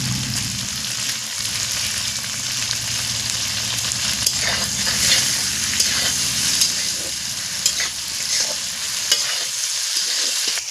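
Chopped tomato and green chilli, with a little salt, fry in an oiled pan for a fish curry, giving a steady loud sizzle as a spoon stirs and scrapes through it close by throughout.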